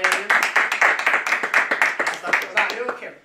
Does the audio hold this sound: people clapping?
yes